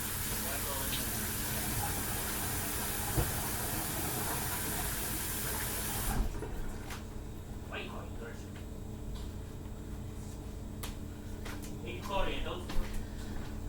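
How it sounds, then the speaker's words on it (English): Running tap water pours steadily into a sink as hands are washed, a continuous hiss that cuts off partway, followed by quieter handling sounds and light splashes. "Let me just wash my hands"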